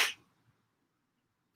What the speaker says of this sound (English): shook off another sneeze